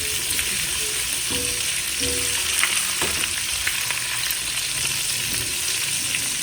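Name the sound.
prawns deep frying in oil for tempura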